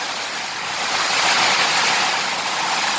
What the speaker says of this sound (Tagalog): naririnig niyo po ang lakas po ng hangin